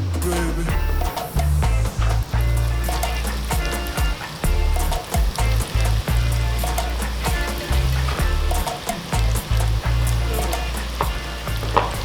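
Fish nuggets, fries and tater tots frying in hot oil at a beach catch-and-cook, a steady loud sizzle and crackle with bubbling pops throughout.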